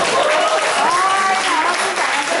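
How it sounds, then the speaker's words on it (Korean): Steady audience applause at a club gathering and members' singing contest, continuous crowd clapping with voices mixed in over the whole short stretch. "박수 한번 드릴게요."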